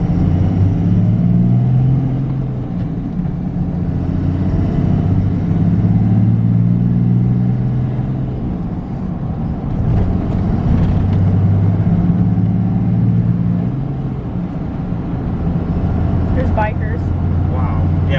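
A truck engine accelerating while driving, a low rumbling drone that swells and eases in repeated waves as it gains speed, heard from inside the cab under a talking voice.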